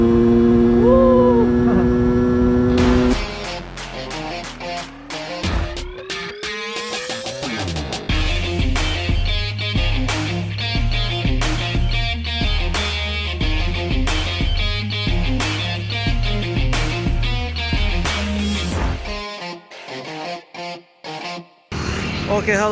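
A Yamaha F1ZR motorcycle engine is revved hard at full throttle, the pitch sweeping upward into a loud, raspy two-stroke wail with repeated throttle blips and bursts, close and alone.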